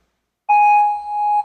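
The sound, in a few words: countdown beep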